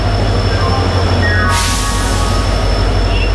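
Chakradharpur Express train standing at a station platform, a steady low engine rumble throughout, with a sudden loud burst of air hiss about halfway through that stays on underneath; no one speaks.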